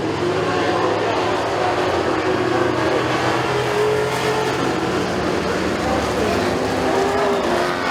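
Pure stock race cars roar around the dirt oval at McKean County Raceway during a feature race, a dense, continuous engine drone with revving swells that stays loud and steady throughout.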